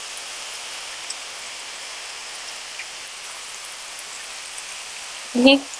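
Chicken curry with potatoes and chicken curry masala sautés in a pan with a soft, even sizzling hiss, and a brief voice-like sound cuts in near the end.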